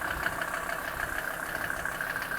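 A Mercedes G-Class 290 turbo diesel, its 2.9-liter five-cylinder engine idling, gives a steady, even mechanical hum with a faint knocking texture, close by and with no voices.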